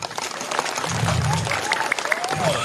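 Audience applause at a Balinese comedy show, a steady wash of clapping with crowd noise, while music plays and a voice is heard underneath.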